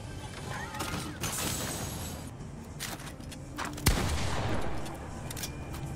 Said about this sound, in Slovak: Aj, tu sa strieľa, volade.